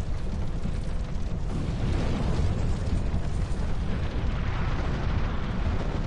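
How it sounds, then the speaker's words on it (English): A windmill set ablaze in Dark Souls 2, heard as a steady, dense roaring rumble of fire that stays loud and even from start to finish with no voices. "Burn the windmill."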